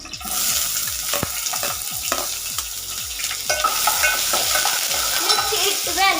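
Onion frying in oil in a kadai for an Indian cauliflower and green peas masala, stirred with a spatula; steady close sizzle with repeated scraping strokes against the pan, no talking.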